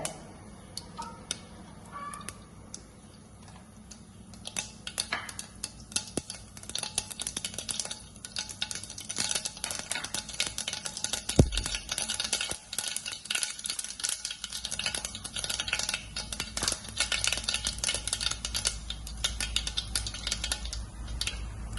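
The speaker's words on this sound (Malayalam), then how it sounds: "ചൂടായിട്ട് നമുക്ക് കടുക് പൊട്ടിക്കാം." Mustard seeds splutter and pop in hot sesame oil for a banana stem pickle, with scattered crackles and stirring sounds that grow denser over time, close and fairly quiet.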